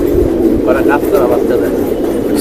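Soft coos of silver pigeons repeat beneath steady background noise and a nearby voice, low and murmuring rather than loud.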